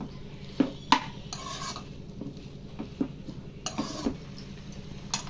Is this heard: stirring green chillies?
yes